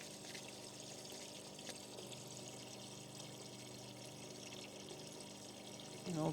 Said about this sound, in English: I don't use this parts washer anywhere near as much as I should